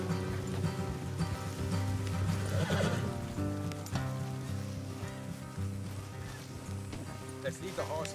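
Horses neigh and whinny in the Red Dead Redemption 2 video game, with hooves clopping on wet ground amid rain, a loud whinny standing out mid-way, while characters talk over it.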